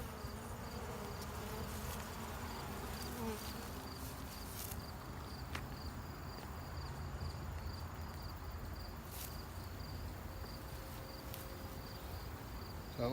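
Honey bees buzz steadily around an open beehive during an inspection, with comb being filled with honey and capped, a dense continuous drone close by with occasional brief louder passes, no speech.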